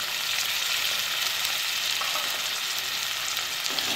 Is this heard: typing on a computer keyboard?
no